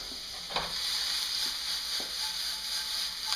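Onions sauté in a pan with a steady, close sizzle that runs throughout, broken by a few soft scrapes of stirring.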